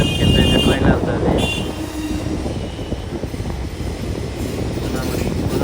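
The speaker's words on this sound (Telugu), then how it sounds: "ట్రైన్ అయితే బ్రిడ్జ్ లోపలికి అయితే ఎంటర్ అయిపోయింది." The Puri–Tirupati Express rolls onto the Godavari river bridge with a loud, steady rumble of wheels and carriages, lasting throughout, while faint voices sound in the background.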